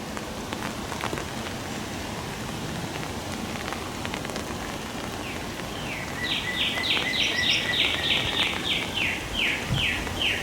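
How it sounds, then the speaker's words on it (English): Rain falls steadily on a rainy Memorial weekend beside beehives, a constant soft patter of drops on surfaces, with a short run of bird chirps entering in the second half. "I can see the raindrops"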